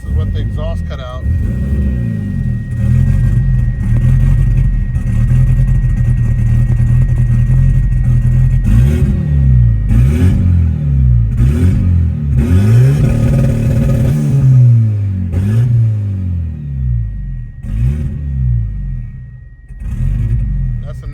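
Engine of a 500 hp car with an aftermarket exhaust and the exhaust cutout open, revving in repeated rising and falling pulls over a steady loud rumble, close and dominant, with a voice talking now and then underneath.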